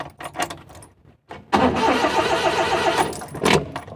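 A Suzuki Multicab with an electrical fault cranks on its starter without firing: a close, steady mechanical churning for about a second and a half, after quieter clicks and handling noises.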